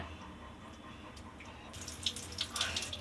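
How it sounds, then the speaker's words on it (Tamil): Running tap water pours over fish being rinsed clean in a sink, a steady moderate stream with splashing that grows brighter and busier in the second half as the fish is moved under the flow. "இப்போ அலம்பிட்டோம் நல்லா இந்த மாதிரி அலம்பி கொடுங்க"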